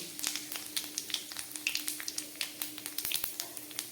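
Panch phoron spices crackling in hot mustard oil, with rapid, irregular small pops and spits over a low steady sizzle, close and moderately quiet.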